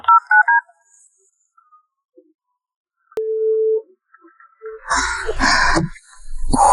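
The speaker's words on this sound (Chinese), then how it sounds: "很像悠悠啊，怎么不接电话呀？" An unanswered phone call: a few short electronic beeps, then a pause, then a single sustained call tone, followed by louder, busier electronic sound at the end, with no one speaking.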